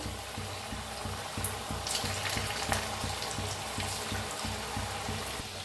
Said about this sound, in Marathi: तेलात सोडूया आपण तळून घ्यायचं आहे